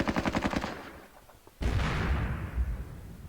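Bursts of BAR automatic rifle fire in a WW2 strategy video game: a rapid rattling string of shots, then a brief lull and a louder, sustained blast of gunfire with a booming low rumble.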